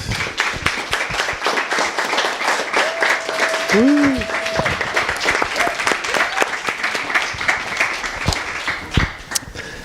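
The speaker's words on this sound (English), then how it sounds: "Can we give Derek and Monica another hand clap?" A lecture audience bursts into warm, sustained applause, with dense clapping continuing across the whole stretch and some crowd murmur mixed in.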